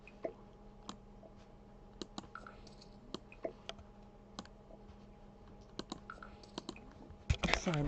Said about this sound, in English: Sorry about that clicking.